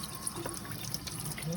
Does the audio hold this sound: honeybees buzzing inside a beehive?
no